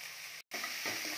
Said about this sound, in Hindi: इसको सॉटे कर लेंगे।